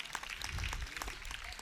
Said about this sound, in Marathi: त्यांच्यासाठी एकदा जोरदार टाळ्या झाल्या पाहिजेत